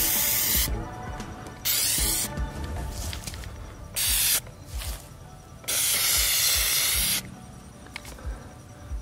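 Aerosol Plasti Dip sprayed in light first-coat passes onto the chrome grille of a 2019 Toyota Tacoma: several loud hissing bursts of a second or so each, separated by short pauses, close up, with no talk.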